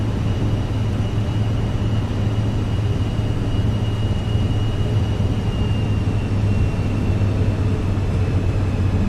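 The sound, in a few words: Vision Jet G2 taxiing in Microsoft Flight Simulator video game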